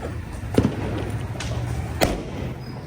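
Firecrackers burst during a family Diwali celebration at a new home: two sharp, separate bangs about a second and a half apart, somewhat distant, over a steady background hum.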